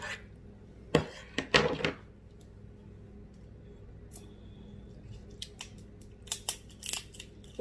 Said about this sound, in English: Let me see the scissors, Jay.